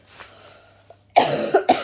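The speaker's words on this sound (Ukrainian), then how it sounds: "Ой, щось кашель" Two sharp coughs close up, a short harsh burst followed by a second one, after a moment of near silence.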